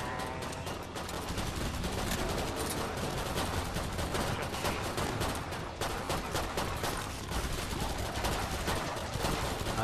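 Continuous video game gunfire in Killing Floor 2 runs as dense, loud rapid shots and bursts with barely a pause, close and filling the whole stretch, with no talk heard over it.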